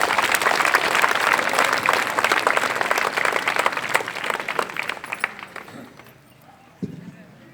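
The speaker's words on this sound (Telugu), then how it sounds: "మనం చప్పట్ల ద్వారా ఒకసారి తెలియజేయండి." A crowd applauds steadily at a school Republic Day celebration, with loud dense clapping that gradually thins out and fades toward the end.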